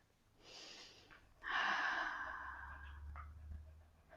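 A slow, audible breath is released during a calm yoga session, a soft airy exhale that swells and tapers over a few seconds, quiet and close, with no talking.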